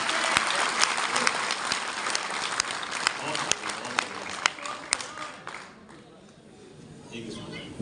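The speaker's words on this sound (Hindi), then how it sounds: "तो एक बार जोरदार ताली अपने लिए जरूर बजाएं" Sustained applause from attendees at a business meeting in a hotel hall, dense many-handed clapping with sharp individual claps standing out, fading gradually toward the end.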